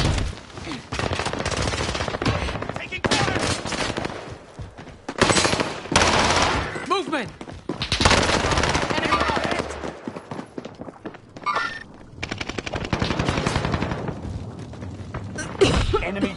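Loud bursts of automatic gunfire from a video game shooter come in long, repeated volleys with short gaps, filling the scene with sharp cracks and rattling; a faint voice surfaces briefly.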